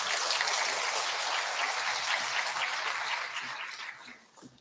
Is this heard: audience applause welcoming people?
yes